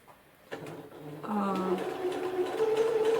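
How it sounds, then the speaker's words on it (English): A sewing machine stitches quilted fabric for a bomber jacket, starting after a few soft clicks and then running as a steady whirring hum that grows slightly louder, close by and faint overall. "you can, with your presser foot, put this thing behind, and then your presser foot is really level, and you can start stitching"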